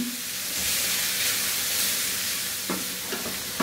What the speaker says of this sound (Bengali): এইটা হালকা করে একটু ভেজে নিব।